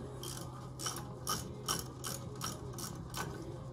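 A hand ratchet tightens the front brake caliper bolts on a 2014 Polaris RZR 900 during a brake pad replacement. About eight evenly spaced bursts of clicking pawl action sound close and steady over a low hum, with no talking.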